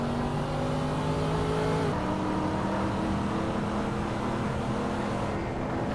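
Race cars in a Hot Wheels video game hold a continuous engine drone, with a shift in pitch partway through as one car works to get past another, steady and fairly loud with no talk.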